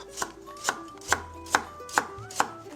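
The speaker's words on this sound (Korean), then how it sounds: "반달 모양으로 썰어 준비해 주시고요." A knife cuts a carrot into half-moon slices on a board, seven crisp, evenly spaced chops about half a second apart, close and clear with no talking.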